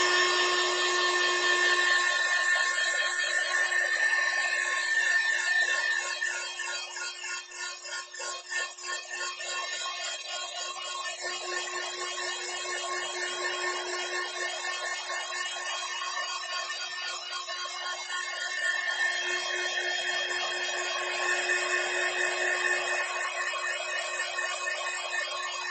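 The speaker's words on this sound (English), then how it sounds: "hitting it with the heat gun" Heat gun blows hot air over paint on a 3D print, a steady loud whirring hiss with a constant whine, running without pause for the whole stretch, dipping slightly in level now and then.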